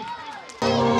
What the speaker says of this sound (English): please give a big applause for this performance